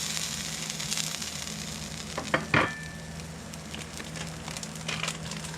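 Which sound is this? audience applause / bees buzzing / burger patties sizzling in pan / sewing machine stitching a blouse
burger patties sizzling in pan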